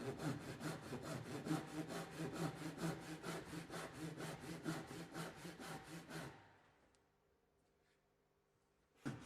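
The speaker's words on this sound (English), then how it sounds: "a fine-toothed saw can be used to cut along the line of the joints to eliminate any minor gaps" A fine-toothed saw cuts along the line of a joint in timber during a wood repair, about two dozen quick, even strokes up close, then it stops and the sound falls to near silence.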